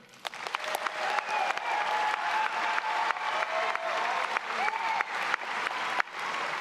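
Sustained applause from a graduation ceremony audience at Milwaukie High School for graduating students, a dense crowd clapping steadily throughout, with faint voices and cheers underneath.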